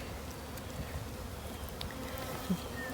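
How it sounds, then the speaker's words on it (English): A steady, low buzz of bees at a hive entrance in a bee yard hums throughout, with one brief louder buzz as a bee passes close. "both have bees coming in and out."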